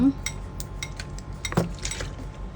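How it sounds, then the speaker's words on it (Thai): Chopped shimeji mushrooms and spring onions are mixed with soy sauce, oyster sauce and pepper, with a few close spoon clinks and scrapes against a bowl over a quiet background. "คลุกเคล้าส่วนผสมให้เข้ากันนะคะ"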